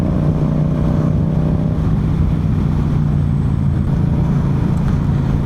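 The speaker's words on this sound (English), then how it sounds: "just hearing the exhaust sound on this is very soothing, very nice" A Yamaha MT-07 motorcycle with an inline-twin engine and Akrapovic full exhaust runs steadily, giving a loud, constant low drone with a fixed engine tone and no voices over it.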